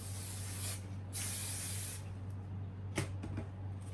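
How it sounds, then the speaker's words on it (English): Two long hissing bursts from a hair product spray bottle, close by, followed by a few soft handling clicks and rustles. "spray the product"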